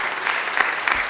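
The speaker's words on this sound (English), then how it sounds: "Give yourselves a round of applause" A short burst of audience clapping at a Martin Luther King Jr. convocation, an even, moderately loud patter of many hands with no pauses.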